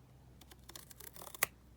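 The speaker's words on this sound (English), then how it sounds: "I'm just going to cut it with my hair thinning scissors." Several quick snipping sounds close by, hair-thinning scissors cutting paper in a short uneven series, ending in one sharper, louder snip.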